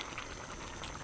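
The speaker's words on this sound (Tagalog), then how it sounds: "At kumukulo-kulo na." A pot of vegetable soup with moringa pods bubbles at a steady, lively boil, with dense gurgling and popping close by and no talking.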